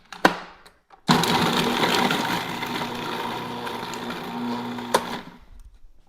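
A food processor grinds dates, starting with a short pulse, then running in a steady loud whirring drone for about four seconds before cutting off.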